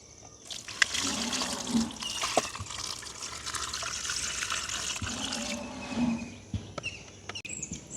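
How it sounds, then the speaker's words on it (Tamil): Peeled jackfruit pieces are washed in water, with a steady rushing and splashing of water punctuated by sharp knocks of the pieces and the vessel, close and fairly loud. "இப்போ நாங்கள் வடிவாக கழுவி எடுப்போம்"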